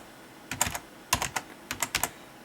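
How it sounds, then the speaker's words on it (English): An old PS2 computer keyboard from around 2001, connected through a USB adapter, clacks in three quick bursts of keystrokes, each a close, crisp cluster of clicks separated by short pauses, with no speech. "my keyboard is an old PS2 keyboard from like 2001, and it's actually connected through a USB to PS2 adapter"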